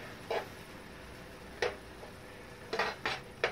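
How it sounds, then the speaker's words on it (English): A pan for chicken marsala is scraped to loosen stuck flour while deglazing, giving several short, sharp metallic scrapes and clinks at irregular intervals over a quiet low background, close and clear. "we're going to deglaze the pan with this. So all of the flour that got stuck to the oil in here."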